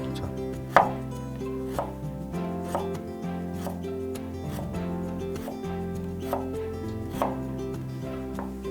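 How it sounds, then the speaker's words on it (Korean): A knife chops food on a cutting board in a basic knife-skills demonstration, steady sharp cuts repeating about once a second over a constant background hum. "이렇게 칼을 하실 때는 밀어줘야 되는데 내려 찍으면은 좋진 않아요"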